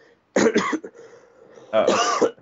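Two quick, rough throat-clearing bursts close to the mic, followed after a short pause by a longer, harsher clearing.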